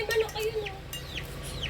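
A pet chicken clucking in short, quick calls close by, with faint background noise and a voice nearby.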